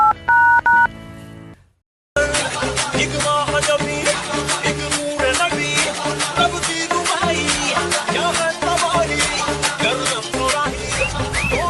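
A short run of telephone keypad beeps sounds alone, then goes quiet before loud music kicks in and carries on steadily.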